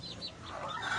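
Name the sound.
chickens clucking while being fed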